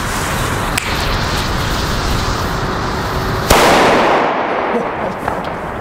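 A German Böller firecracker goes off outdoors with a sharp, loud bang and a broad crackling blast that rings out and decays over a second or two, after a smaller pop, under steady background noise.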